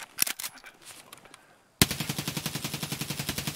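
Automatic weapon fire in Escape from Tarkov during a recoil test: scattered shots and clatter first, then a sudden loud, sustained burst of rapid, evenly spaced rounds running to the end.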